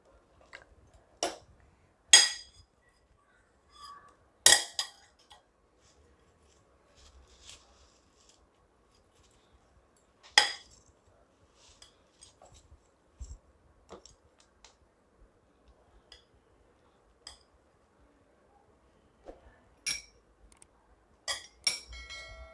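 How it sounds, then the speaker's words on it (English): Ingredients being mixed with a pinch of salt in a no-cook preschool recipe, heard as scattered clinks and taps of a utensil against a glass bowl, a few louder strikes spaced through long quiet stretches, no talking. "I will put pinch of salt and mix everything."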